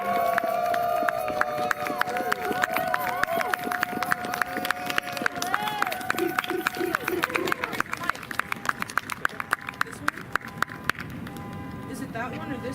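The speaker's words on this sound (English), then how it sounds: "Everybody give a big round of applause to Olive, and keep it going until they get on stage" An audience at a live BIPOC horror-themed arts showcase applauds as artist Olive comes on stage, with scattered clapping and cheering over crowd chatter and movement, and voices talking throughout.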